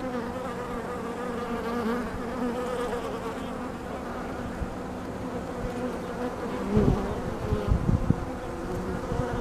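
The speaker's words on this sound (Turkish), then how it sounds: "bölmesine dönen bir kraliçe arı." A honeybee queen buzzes steadily close by as she returns to the hive from her mating flight, the hum sitting over a dense background drone of other bees, with a few louder bumps and handling sounds near the end.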